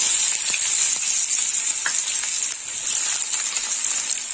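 Onions go into hot oil tempered with black cumin seeds and dried red chillies, producing a loud, constant high sizzle with occasional soft clicks and stirring taps, close up and uninterrupted by speech.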